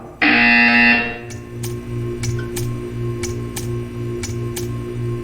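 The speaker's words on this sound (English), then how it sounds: "When you hear the buzzer, stare at the art." A loud, harsh buzzer in the video game Portal 2 blares for about a second, then stops, followed by a steady series of sharp ticking clicks over a low hum.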